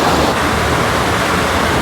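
A north-flowing mountain river near a Mahadev temple in the Pahadi hills, its streams rushing in a loud, steady broadband roar with no pauses and no voices.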